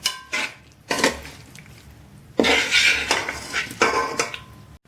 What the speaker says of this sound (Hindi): इसको अच्छे तरीके से मिक्स कर लेंगे